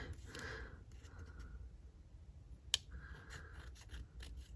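Scissors trim paper for a holiday music page. Quiet snips and rustling paper are close by, with one sharp click.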